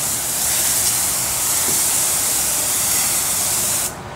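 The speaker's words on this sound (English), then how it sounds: "Let me rinse this off a little bit." A water spray rinses a ground, bare concrete floor with a loud, steady hiss that runs unbroken for about four seconds and cuts off abruptly near the end.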